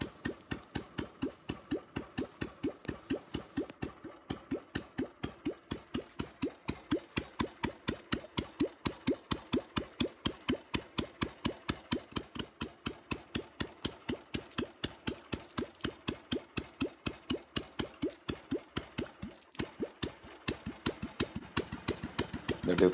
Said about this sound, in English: The difference in exhaust sound is due to removal of silencer.